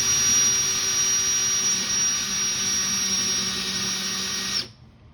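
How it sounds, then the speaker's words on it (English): A power drill whines at a steady high pitch for several seconds while drilling into wood, close and loud, then cuts off abruptly into near silence. "I'm going to take my drill and line the point of the drill bit up"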